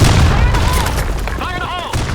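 A grenade blast booms in the online shooter BlackShot on the Sandstorm map, a loud low burst under game voice callouts and chirping effects in a brief, busy moment of combat.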